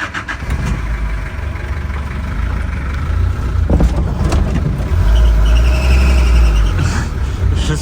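A 1977 Ford B250 truck engine runs loud and steady nearby, with low rumbling that swells as it pulls away and a faint whine rising over the top.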